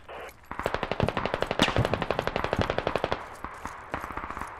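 Rapid automatic gunfire in the video game Squad, a long fast burst of loud, evenly spaced shots followed by a few shorter bursts, close and dominant with no talking.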